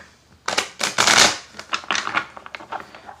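Tarot cards shuffled by hand in a series of close, crisp riffling bursts, louder near the start and continuing in shorter papery flutters, with no talking.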